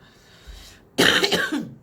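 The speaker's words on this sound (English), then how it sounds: "so I've got a smoker's cough" A harsh, rattling smoker's cough erupts after a brief quiet moment, a few rough hacking bursts close by.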